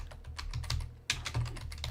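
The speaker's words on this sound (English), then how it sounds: "One second, I'm just typing it in." Rapid typing on a computer keyboard, a steady patter of soft key clicks close to the microphone with one slightly louder stroke, no voices over it.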